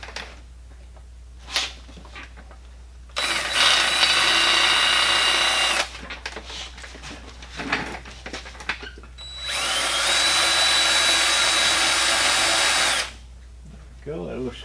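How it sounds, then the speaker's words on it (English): Power drill boring through a small drill guide in a workshop, two loud close bursts of whirring, each a few seconds long, separated by quieter handling noises and brief sounds of a person talking. "I'm going to use it as a little drill guide here."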